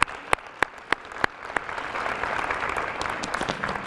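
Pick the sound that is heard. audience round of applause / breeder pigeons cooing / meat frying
audience round of applause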